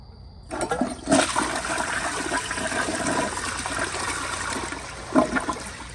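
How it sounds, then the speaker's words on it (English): A 2001 Crane Plumbing Rexmont elongated toilet flushes once up close, with a sharp start, a steady rushing and gurgling drain, and a refill trickle at the end, with no talking. "I'll give y'all 2 more flushes"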